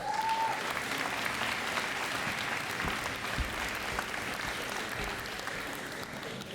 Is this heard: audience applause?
yes